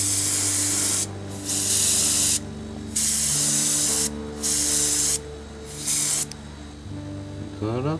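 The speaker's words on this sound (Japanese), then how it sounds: "エアブラシ。" An airbrush with a 0.5 mm nozzle sprays paint onto a Tamiya 1/24 Nissan Skyline 2000GT-R model kit in repeated close, loud hissing bursts, with a steady compressor hum underneath.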